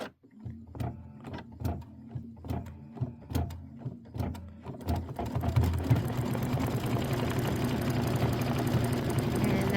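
Embroidery-capable sewing machine stitching a Kimberbell wreath quilt block in the hoop, with a steady mechanical chatter that starts as spaced rhythmic bursts, then runs as a continuous loud whir close by.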